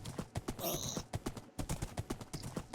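Horse hooves clip-clop in Minecraft as a rider travels, a steady run of quick near hoof taps with brief bursts of game sound.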